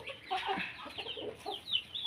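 Chickens cluck in short, busy bursts at feeding time, several birds close by calling over one another.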